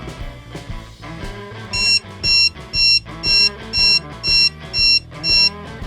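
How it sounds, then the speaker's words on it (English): An AIS collision alarm on an ocean sailboat beeps in a steady repeating pattern, about eight evenly spaced high-pitched tones, loud over a background of music. "If another ship crosses at less than 1 nautical mile within the next 18 minutes, the AIS sounds the alarm."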